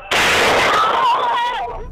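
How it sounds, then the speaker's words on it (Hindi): A suicide bomb blast at an Azadari mourning procession, a sudden loud, sharp detonation followed by a sustained roaring rumble and ringing tail. "हमला आवर ने हौलनाक धमाके से खुद को उड़ा लिया"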